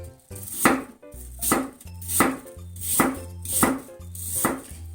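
A knife slices apples thinly on a cutting board, six evenly spaced, firm cuts each ending in a solid knock against the board, close and clear with nothing else audible.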